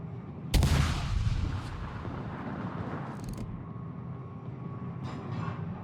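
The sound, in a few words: warship guns firing in naval video game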